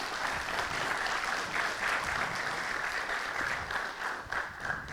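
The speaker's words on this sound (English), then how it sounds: "please give a huge round of applause as I invite all the panelists and our professor to come up on stage" Steady, sustained audience applause fills a conference hall at a business school panel discussion as panelists and a professor walk onstage, a dense, even wash of clapping at constant loudness for the whole stretch.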